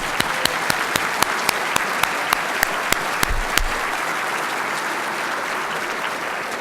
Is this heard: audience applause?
yes